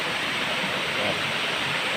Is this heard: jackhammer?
no